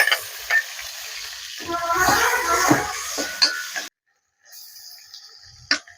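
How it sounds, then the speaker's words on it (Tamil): Grated coconut roasts and is stirred in a pan, a soft sizzle with scraping strokes of a spoon against the metal, close by, then a brief pause before quieter stirring and a final clink. "தேங்காய் வந்து நல்லா வறுத்து எடுத்துக்கிடுவோம்மா"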